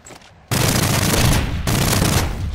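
Dense, rapid video-game gunfire erupts after a quiet half-second and rages loudly and continuously, with a brief dip before the volley resumes, during a competitive multiplayer match.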